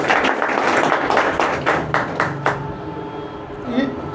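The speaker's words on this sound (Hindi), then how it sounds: "सबको कहेंगे कि एक तालियों से स्वागत किया जाए जोरदार।" A welcoming round of applause at a Bhim Army press conference in Bettiah, Bihar, steady clapping from a gathered group that fades out toward the end, with voices heard over it.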